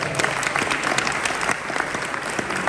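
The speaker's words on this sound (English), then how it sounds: "Give them a round of applause." Applause from attendees at a chamber of commerce event, a steady crowd clapping at moderate loudness that holds evenly throughout.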